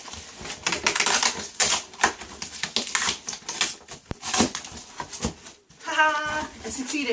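Packing tape is ripped off a cardboard box while unboxing structured baby carriers, sharp tearing bursts in quick succession close to the mic, with someone talking and laughing near the end.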